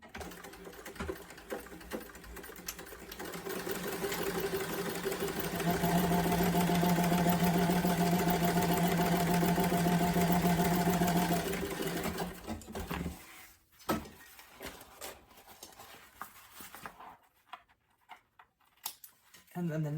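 A sewing machine stitches across the top of a fabric sling bag, running in a loud steady whir for several seconds before stopping. Softer handling noises and scattered clicks follow, with a person talking nearby.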